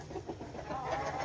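A fighting rooster, kept with a hen, clucks in a few short close calls, followed by a longer, rising drawn-out call near the end, with no voices over it.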